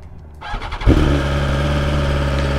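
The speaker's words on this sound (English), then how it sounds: "Now when you turn the bike on, voila." A 2022 BMW S1000RR superbike is switched on and fires up, a brief starter whine and crank giving way to a steady, fairly loud idle that holds to the end, heard up close with no talk.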